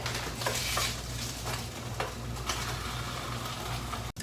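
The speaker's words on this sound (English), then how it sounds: "So we'll go ahead and put those in the skillet." Mushrooms, spinach and yellow peppers sizzling in a skillet for a breakfast egg-white omelet, a steady close hiss with a low hum underneath and occasional soft utensil scrapes, no voices.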